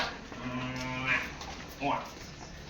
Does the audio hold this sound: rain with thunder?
no